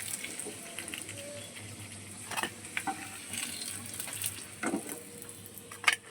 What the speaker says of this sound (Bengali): আবারও দ্বিতীয় গুলো সুন্দর করে ভেজে নিয়েছি